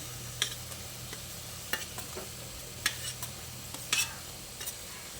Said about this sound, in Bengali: এবার আমি ভেজে রাখা সয়াবিনগুলো এর মধ্যে দিয়ে দিচ্ছি।